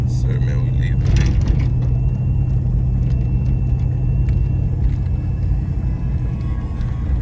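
A Chevrolet box Chevy car rolls along the road with a steady, loud low rumble of engine and tires that stays constant throughout, heard from inside the car, while someone talks over it.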